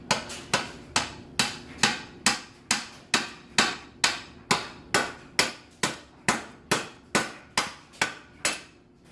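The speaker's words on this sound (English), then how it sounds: "So I'm just going to grab my screwdriver here and just tap it down." A screwdriver taps on the governor of a Predator 212 engine in a steady series of about eighteen sharp metallic knocks, evenly spaced and close, each ringing out briefly before the next.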